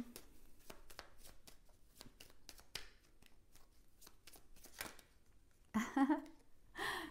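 Tarot cards are shuffled by hand in a quiet room, a steady patter of soft riffling flicks, then a brief louder flurry and rustle as a card is drawn and laid out.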